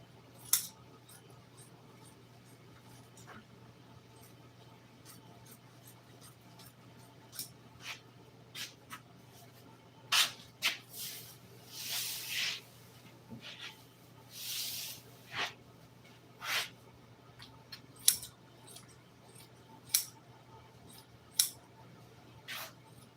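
Scissors snip through car interior upholstery trim in an auto upholstery shop, a series of sharp, close cuts scattered irregularly, some in quick bursts, over a quiet room hum.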